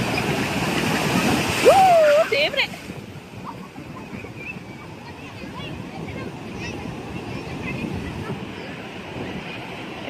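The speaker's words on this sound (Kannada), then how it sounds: "ಅಲೆಗಳು ತುಂಬ ಜೋರಾಗಿ ಬರ್ತಿದೆ" Strong ocean waves roar steadily at Mangalore beach, a continuous broadband wash of surf close by, with a brief exclamation from a voice near the start.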